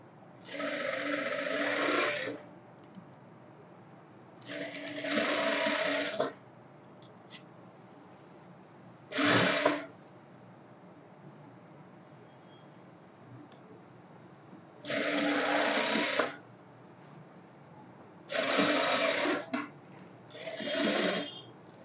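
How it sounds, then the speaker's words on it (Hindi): An electric sewing machine stitches lace onto a kurti in six separate bursts of a steady motor whir and needle chatter, each lasting one to two seconds, with quiet pauses between them. "इस तरीके से लेस को रखते हुए और हमें स्टिच कर लेना है।"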